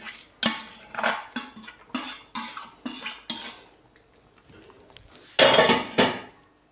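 Cooked dal is scooped into a pot of sambar with a metal spoon, giving a series of sharp utensil clanks and scrapes against the pot in an uneven rhythm, close up, then a louder pair of clinks near the end.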